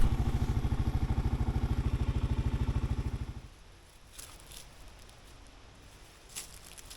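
Motorcycle rumbling at a campsite with a steady pulsing engine note that cuts off after about three seconds, leaving quiet outdoor ambience with a few light clicks.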